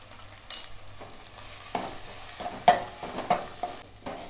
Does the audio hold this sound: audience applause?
no